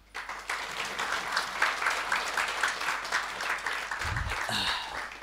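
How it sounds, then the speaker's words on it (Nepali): A church congregation claps in praise of the Lord, a dense, steady round of applause that runs for several seconds and tails off near the end, with a brief low thump mixed in. "प्रभुलाई महिमाको ताली दिउँ"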